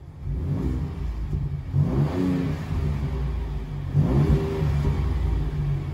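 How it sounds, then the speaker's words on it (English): A twin turbo V6 car engine revs twice in strong bursts over a steady low idle, close and loud with no talking. "All right, I'll give you guys a couple revs too."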